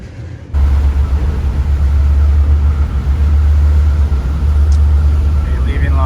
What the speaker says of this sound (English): It's a 1 hour ferry ride over to Connecticut from Orient Point here on Long Island.